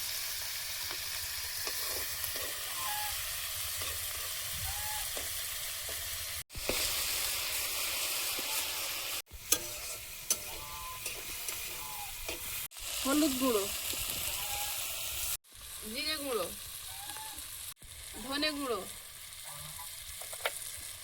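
Nigella seeds, tomato, green chilli and old garlic fry in a pan with a steady close sizzle and hiss, cut into separate segments, while a voice talks over parts of it.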